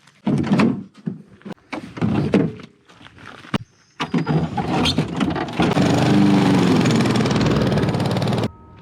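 A few hard thunks and knocks come first, then a lawn mower starts up and runs with a steady, loud engine drone while mowing a field on a ranch estate.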